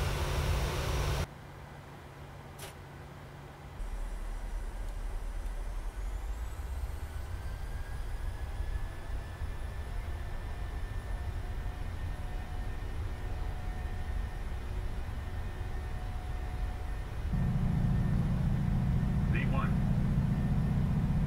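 Simulated airliner engines spool up for a takeoff roll in a flight simulator game, a steady broadband roar that surges louder near the end, with a brief tonal whine rising through it.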